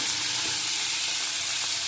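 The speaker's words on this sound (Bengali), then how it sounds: "বেশি কড়া করিনি হালকা ভেজে নিচ্ছি" Continuous soft sizzling and crackling of fish lightly frying in oil, steady and close, with no voices.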